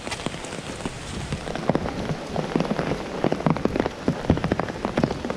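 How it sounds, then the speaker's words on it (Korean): Autumn rain falls steadily on surfaces outdoors in Toronto, a dense close patter of individual drops and splashes that grows busier and more irregular toward the end, with no voices. "여기도 가을비가 오네요."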